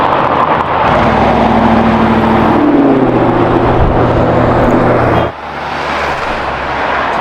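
Cars on Abu Dhabi city streets produce a loud, close, continuous roar of passing traffic that swells and shifts, then drops away suddenly near the end before building again.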